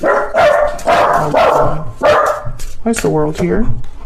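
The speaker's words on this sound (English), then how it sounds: "Sorry about my dogs." Several dogs bark indoors in loud, repeated bursts and yips, close and overlapping, while someone talks over and between them.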